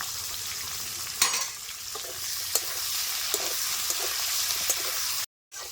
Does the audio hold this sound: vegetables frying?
yes